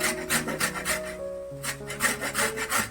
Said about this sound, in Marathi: बारीक किसणीने आपल्याला कैरी किसून घ्यायची आहे